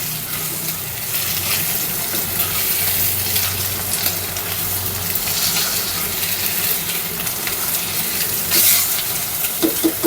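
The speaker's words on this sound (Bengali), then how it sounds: "আমি একটু কড়া করেই ভেজে নিচ্ছি" Chopped onion fries hard in hot oil for a crisp finish, giving a loud, steady, close sizzle that carries on without a break.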